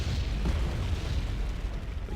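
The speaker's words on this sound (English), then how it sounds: "Oh no, it's artillery." Artillery explosions in Wargame Red Dragon multiplayer: a sustained, loud, booming rumble of blasts overlapping into a dense wall of sound with no pauses.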